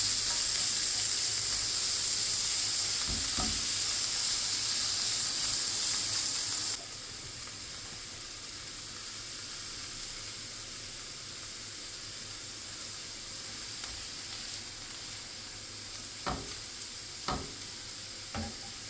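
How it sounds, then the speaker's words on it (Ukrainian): Quiet, steady sizzling of onion and grated carrot frying in a pan, with a brighter hiss early on and a few soft clinks of stirring later. "Поки в мене воно все трошечки обсмажується"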